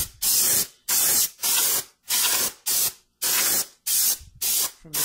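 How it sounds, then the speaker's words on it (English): Brake cleaner is sprayed inside a differential housing during a rear axle fluid change. About eight short, sharp hissing bursts come in a quick, even rhythm, loud and close, with brief silences between them. "Just spray."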